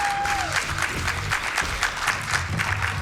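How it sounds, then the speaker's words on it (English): A crowd applauds steadily at Awesome Games Done Quick, a speedrunning event, dense clapping with a faint tone fading at the start. "Can we just get a huge round of applause for the tech crew"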